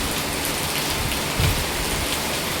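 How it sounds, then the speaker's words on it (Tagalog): Heavy rain pours steadily over a creek near mountains, a dense, continuous hiss with a brief low thump partway through and no talking. "Still raining there at the mountains, the other side."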